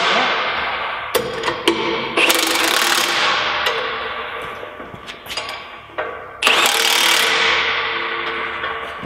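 A wrench tightens a bolt on a SoilWarrior tillage machine while a containment coulter is fitted, giving close metallic clicks, scrapes and sharp knocks in irregular bursts.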